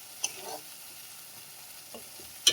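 Masala paste cooks in oil for an onion-free shing fish curry, giving a faint, low sizzle broken by a few soft spoon clicks and a sharper tap at the end.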